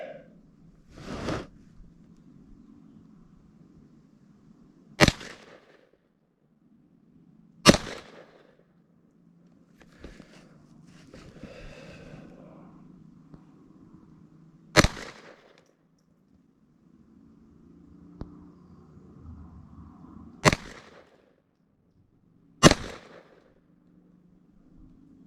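Browning BuckMark pistol firing 36 grain ammo, six sharp, loud shots spaced several seconds apart, with faint handling noise and quiet murmuring between them.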